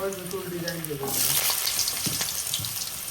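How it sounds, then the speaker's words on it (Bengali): Cut potatoes hit hot oil in a pan for a jackfruit vegetable dish. A loud, steady sizzle swells after the first second, with stirring scrapes and a few crackles over faint background tones. "এখন তেলের উপরে আমি আলুগুলো কেটে রাখিছিলাম সেই আলুগুলো দিলাম"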